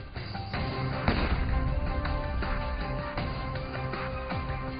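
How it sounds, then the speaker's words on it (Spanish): A single sharp gunshot rings out in a staged crime reenactment inside a house, a shot to the back of the head. The bang comes about a second in and sits over a dense, continuous background wash. "El desconocido pone fin a su macabro juego con un certero disparo en la nuca."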